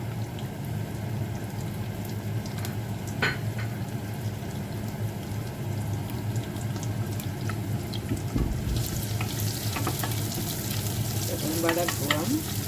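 Onion and green chilli frying in a pan over high heat, a steady close sizzle with occasional stirring scrapes and clinks, no voices.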